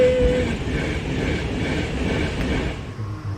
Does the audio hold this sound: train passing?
yes